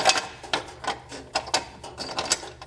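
A carriage bolt and spacer being pulled through a Ford Edge frame rail for a Draw-Tite trailer hitch install, a close, rhythmic series of rattling metallic clicks and scrapes, about eight in quick succession.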